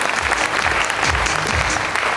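A stage audience bursts into loud, steady applause at an awards event, the clapping dense and continuous throughout with no pauses.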